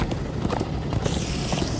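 Horse hooves clip-clopping at a quick, steady pace in the video game Minecraft: Story Mode, with a run of even beats under a busy game mix and no speech.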